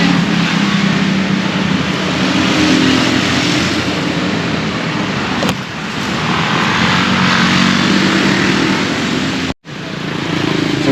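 Dense traffic on a busy street in Canggu, Bali, dominated by motor scooters, a steady close engine roar with vehicles passing continuously, one brief sharp dropout near the end, no voices.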